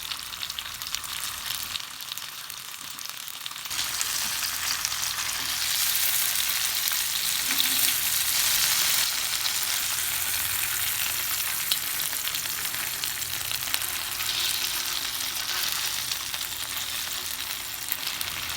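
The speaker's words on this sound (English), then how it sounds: "So now we flip the fish over. And it's grilling nicely." Fish grills in a pan alongside plantain, with a continuous, close frying sizzle that swells after a brief quieter start and holds evenly, with no talk.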